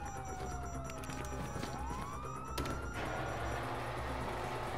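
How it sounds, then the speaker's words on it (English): A police siren from the video game Grand Theft Auto V wails loudly, its tone sweeping down and then rising again over a rumbling engine and dense game noise. "Hear that? Siren!"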